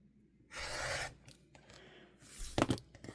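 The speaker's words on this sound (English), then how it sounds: "I'm going to cut this excess off" A blade slices through excess quilting fabric along a ruler in a few short, close, raspy scraping strokes, the first longest and a final sharper pass near the end, in a quiet room.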